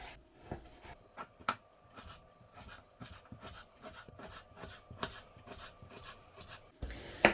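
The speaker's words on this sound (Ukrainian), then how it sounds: "І наріжемо сельце невеличкими кубиками." Knife slicing salo pork fat into small cubes on a wooden board, heard as a steady run of soft scraping cuts, close and fairly quiet, with a louder knock at the end.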